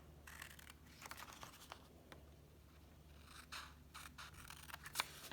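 Scissors cut sections out of a patterned paper box lid, giving faint, close snips and rustling paper in an irregular rhythm, with a sharper click near the end.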